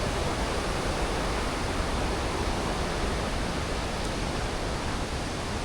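Maranum Falls pouring down, a dense, continuous rushing roar of falling water that fills the scene evenly, close and loud with no voices.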